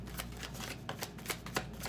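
Tarot cards being shuffled in a Scorpio reading, with a steady papery riffle and soft flicks close to the mic, rising into several sharper slaps near the end, with no voice over it.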